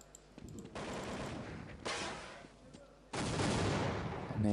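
Gunfire rattles in a Counter-Strike match at a European championship final, with three separate bursts of rapid automatic fire, each louder than the last, faint overall.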